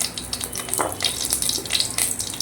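Cloves, cashews and green chillies frying in a pan for paneer butter masala, a steady crackling sizzle with brief louder spatters, close and alone.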